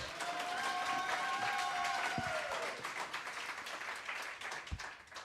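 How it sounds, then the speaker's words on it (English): A live concert crowd claps for a band at The Ark, a broad applause swell that fades over a few seconds, with a held sung or instrumental tone over it early on and a couple of low thumps. "You can clap if you want."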